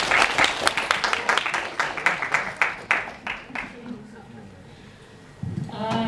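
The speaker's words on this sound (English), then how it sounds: "Let's give a huge applause to her." A crowd at a Toastmasters club meeting applauds a guest speaker, loud clapping that thins and fades over several seconds before a voice begins speaking near the end.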